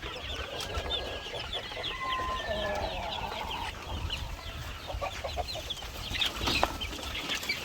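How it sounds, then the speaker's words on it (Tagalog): Young chicks on a farm cluck and peep continuously while feeding, a dense nearby chorus of small calls over a steady background, with a person talking faintly underneath. "so far dito mga ka-farmers ay ayos lang yung mga sisiw natin ito nakakain rin sila"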